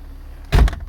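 A short whir from the convertible top motor of a 2002 BMW E46 325Ci, ending in a solid thunk as the top latches shut, close by and brief against a quiet background.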